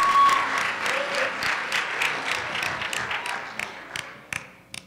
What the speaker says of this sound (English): another round of applause for Jace